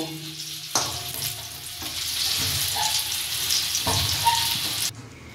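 Katla fish fingers frying in hot oil, a steady close sizzle with stirring clatter and occasional scrapes.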